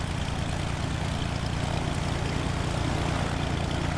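Piper J-3 Cub propeller engine in a flight simulator, a steady low droning buzz with a throbbing pulse, constant and fairly loud, no voices.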